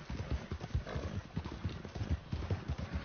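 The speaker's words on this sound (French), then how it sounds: "Je mets le cheval plus loin." Horse hooves in the Red Dead Redemption 2 video game clip-clop in a steady, brisk rhythm of close, distinct thuds over a soft ambient background.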